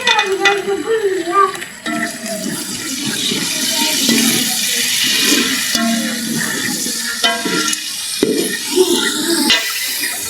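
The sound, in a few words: tomatoes and green chillies frying in a pan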